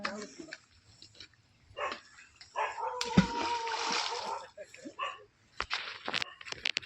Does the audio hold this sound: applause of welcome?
no